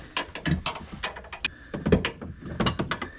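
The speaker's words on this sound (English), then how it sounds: "I'm holding this big freaking torque wrench." A large torque wrench clicks and ratchets on trailing arm bolts during a BMR lower trailing arm install on a Dodge Charger Scat Pack, giving a series of close, sharp mechanical clicks and rattles with no talking.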